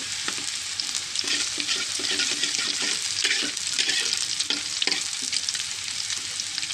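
Onion and garlic fry in a wok with a steady, bright sizzle, broken by the scrape and rattle of stirring at close range.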